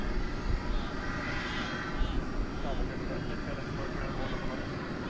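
An Aerologic cargo jet at DFW Airport at night gives a steady, broad engine roar that rumbles on without a break, with muffled voices underneath.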